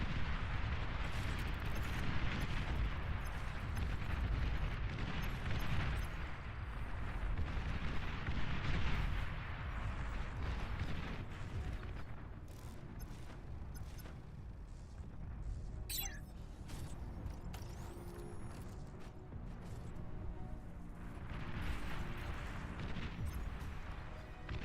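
Explosions and heavy weapons fire in a real-time strategy game where players build power and fusion, a continuous rumbling barrage of booms with sharp cracks, loud throughout and steady for the whole stretch.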